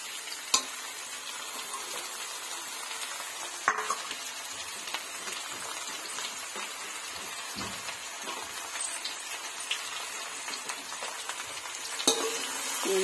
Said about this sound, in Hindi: तोरी और मूली के पत्ता दोनों साथ में डाल देती हूँ।